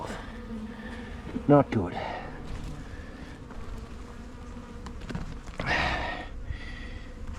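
Honey bees buzz steadily around a weak hive troubled by wax moth and wasps, a continuous droning hum close by, with a sharp brief bump early on and short spoken remarks over the buzzing.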